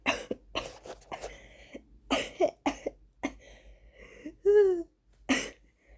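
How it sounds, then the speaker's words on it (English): A person coughs repeatedly in irregular bursts, some harsh and throaty, with a brief wheezy intake between fits, close by. "I need a coughing break"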